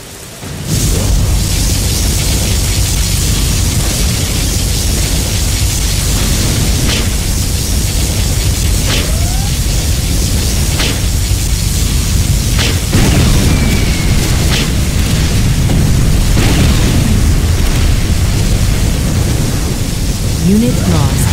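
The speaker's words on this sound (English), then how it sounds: "Particle cannon activated." Particle cannon strike in Command and Conquer Generals, a sustained loud roaring blast with rumbling booms and crackling debris filling the whole stretch, dense and continuous like a storm of explosions.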